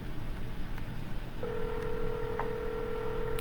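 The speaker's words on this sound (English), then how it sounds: "just gonna keep on dialing" Telephone dialing on a cold call to a for-sale-by-owner home seller, heard as a steady line tone under low background hum with a couple of brief tone blips, fairly close and clear.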